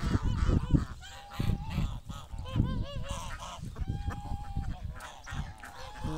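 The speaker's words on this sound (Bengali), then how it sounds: "এখানে একটা রাজহাঁস আছে," A goose honks repeatedly on a duck farm, its loud nasal calls coming in short irregular bursts close by, with other fowl sounds mixed in.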